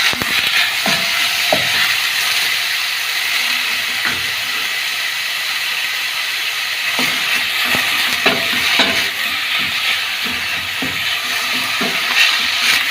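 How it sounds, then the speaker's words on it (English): Onions being stirred in a pot while cooking for cream of mushroom soup, giving a steady close sizzle and hiss with intermittent scraping stir sounds throughout. "And give it a good stir."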